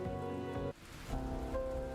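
Heavy rain pours down in a PC adventure game set in a parking lot beside the woods, a steady close hiss over musical tones that drops briefly at one point, then continues at full strength.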